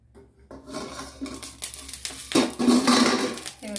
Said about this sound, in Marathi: आणि असं झाकण ठेवून घ्यायचं